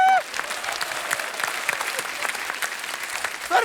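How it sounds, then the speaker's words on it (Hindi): Studio audience at a televised comedy show bursting into applause, a dense, loud wash of clapping that starts abruptly and holds steady, with a brief voice at the start and end. "क्या इनके लिए जोरदार तालियां हैं।"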